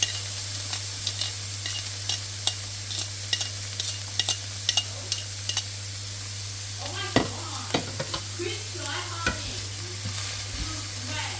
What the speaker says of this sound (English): So now that my onion and garlic are cooking